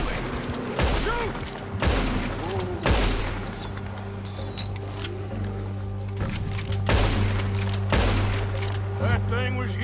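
Rapid gunfire in a Red Dead style western video game as characters shoot at a huge wild animal in winter, repeated sharp bursts spread across the scene with shouting voices and music underneath.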